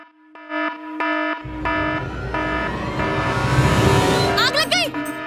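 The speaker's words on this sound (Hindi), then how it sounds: "सिक्योरिटी अलार्म भी बज रहा है।" A hotel security alarm sounds in a Hindi TV serial scene: loud, repeated electronic tones pulse on and off, then a rising wash of noise and warbling sounds swells over them.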